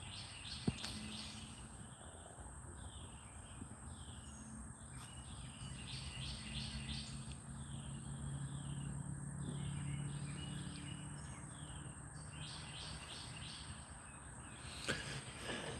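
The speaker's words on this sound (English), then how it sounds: "You hear the birds?" Outdoor night ambience with steady insect chirring and faint bird calls in the background, quiet and continuous, no voices.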